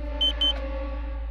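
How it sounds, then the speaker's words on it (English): Two short, high-pitched electronic beeps in quick succession sound inside a horror video game, set over a steady low hum. "Something's beeping!"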